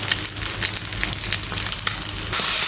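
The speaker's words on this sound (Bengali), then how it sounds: "আবারও অবশিষ্ট মাছগুলো দিয়ে দিচ্ছি এটাও সুন্দর করে ভেজে নেব" Large puthi fish frying in hot oil, giving a close, steady, dense crackle and sizzle with fine popping throughout and no voices.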